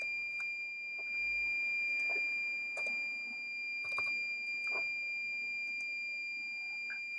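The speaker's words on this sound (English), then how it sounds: "We're connecting a beeper and that shows us that we have connectivity now" A beeper wired through the relay kit of a CalAmp LMU 200 vehicle tracker sounds a steady, continuous high-pitched tone, held without pause under faint background noise.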